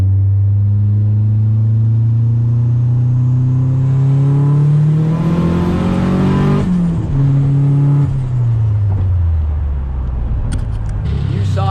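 A 600hp IROC R/T car engine revs on a test run, a loud close roar climbing steadily in pitch, then dropping through shifts into a lower rumble as it eases off.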